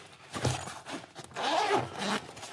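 Zipper on the carrying case of a Klein Tools CL440 HVAC digital clamp meter, pulled open in a few close, quiet rasping strokes over about two seconds.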